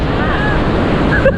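Ocean surf washing steadily near a shore with no fishing out at sea, a continuous broadband wash with wind buffeting the microphone, loud and close throughout.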